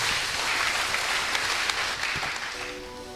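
A congregation at an all-night church service claps for Jesus: a loud, dense roar of many hands that swells and then fades as a low musical tone enters near the end.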